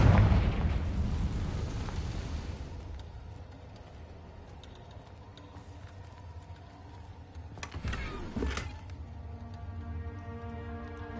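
Confringo explosion spell in Hogwarts Legacy: a loud burst opens the clip and fades into a low rumbling tail, with a second sharper blast near the end over a steady game ambience.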